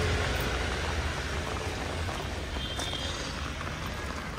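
Rain falls on the NH166 Ratnagiri–Kolhapur highway in the Amba ghat during monsoon weather, a dense, even wash of noise that stays constant throughout with no voices.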